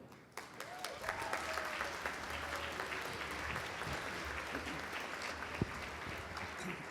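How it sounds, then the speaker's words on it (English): An audience at an elders and youth conference gives Senator Lincoln a steady round of applause, rather soft and distant, sustained for several seconds. "And a clap for Senator Lincoln."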